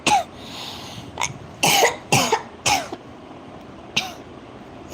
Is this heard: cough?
yes